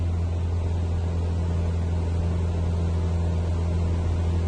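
A Cessna 172's single piston engine drones steadily in flight on a night trip, heard from inside the cabin as a loud, unbroken low hum with no change in pitch.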